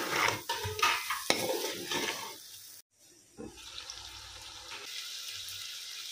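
Carrots, peas, cabbage and capsicum fry on a high flame, giving a loud, dense sizzle and stirring scrape, a brief pause midway, then a steadier hiss.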